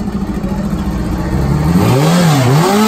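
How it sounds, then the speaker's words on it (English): Steve Rice's drag racing motorcycle does a burnout, its engine droning steadily before the pitch climbs and wavers in a loud, close revving rise. "Steve Rice snuck past me and did a burnout."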